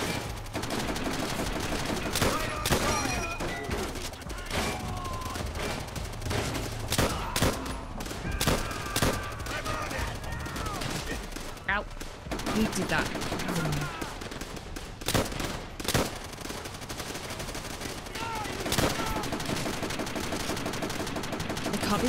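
Continuous rifle and machine-gun fire in the video game Call of Duty: World at War, loud overlapping bursts and single cracks near and far throughout, with game sounds mixed in.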